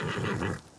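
Horse in the Ghost of Tsushima video game giving a short, close whinny that cuts off abruptly after about half a second, heard alone.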